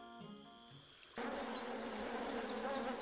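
Wasps buzzing: after a second of faint tonal sound, a dense, steady insect buzz abruptly starts and continues loud and close, with no speech.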